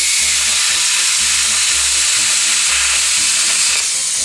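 Metal corners being welded together in a fabrication shop give a continuous close crackling sizzle that holds steady throughout, loud and alone with no voices.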